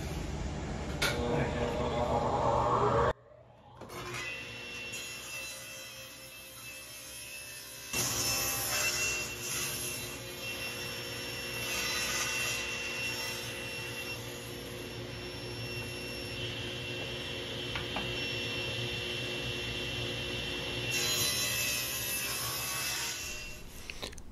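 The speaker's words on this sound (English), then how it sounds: "I had to run them through the planer in order to get down to 1/2 inch" Wood boards are fed through a thickness planer in a woodworking shop. After a brief gap the machine gives a loud, continuous high-pitched whine and roar that holds steady for the rest of the clip.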